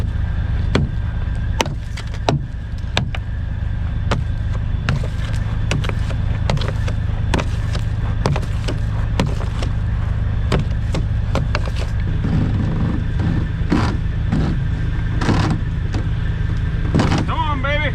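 A semi-trailer's ice-caked landing gear is cranked down in winter, giving a loud, continuous mechanical grind punctuated by repeated sharp metallic clanks and knocks at an irregular rhythm, close by.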